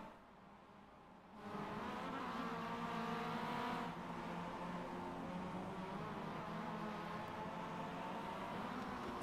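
Mazda MX-5 Cup race cars in the iRacing sim, engines droning steadily through a stadium section of a track, louder and busier after the first second with several cars running together.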